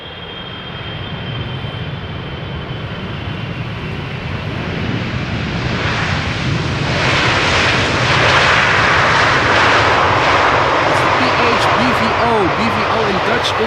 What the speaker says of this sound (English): are we going to see a 777-200 also arriving from Salt Lake City, KLM?